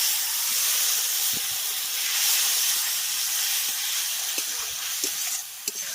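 Spice paste frying in a pan for a tengra fish curry, hissing and sizzling steadily and close, with a brief rise in the hiss as water goes in and faint stirring taps underneath.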